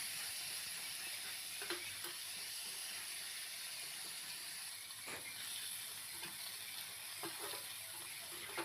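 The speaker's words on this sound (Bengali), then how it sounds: "মাছের মাথাটা একটু ভেঙে আমি ভালো করে একটু ভেজে নেব।" A broken fish head fries in oil in a village kitchen, giving a steady broad hiss and sizzle with a few faint crackles and stirring clicks throughout, with no talking.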